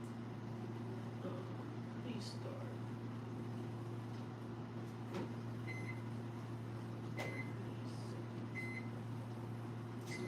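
A microwave oven heating food, giving a steady, low electrical hum that runs throughout, with faint clicks and small background noises over it.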